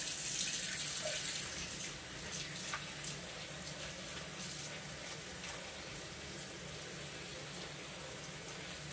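Tap water runs steadily into a sink as dyed wool yarn is rinsed beneath it, a continuous close splashing wash with faint sloshing and no talk.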